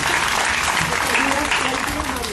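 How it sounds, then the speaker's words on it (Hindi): Children clap together in a classroom, a dense burst of applause with voices underneath. "तो वो तालियां"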